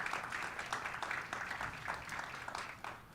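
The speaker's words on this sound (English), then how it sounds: "Let's give her a big round of applause." Faint, distant applause from an audience at a school ribbon-cutting for a student singer, a soft continuous patter of clapping heard from afar.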